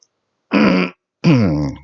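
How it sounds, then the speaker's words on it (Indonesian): Two close, loud coughs come one after the other, each a short harsh burst with a clear gap of silence between them. "batuk ini"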